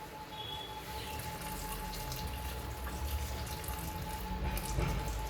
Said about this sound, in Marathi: हे जे गरम झालंय पाणी ते आपण ओतणार आहोत.